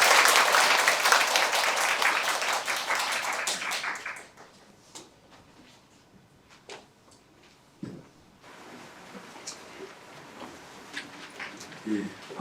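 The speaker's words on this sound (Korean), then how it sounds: "큰 박수로 청하해 주십시오." Applause from an audience at a Buddhist Seon meditation center dharma talk, dense clapping for about four seconds welcoming the center's head monk, then fading into a quiet room with scattered small knocks and shuffles.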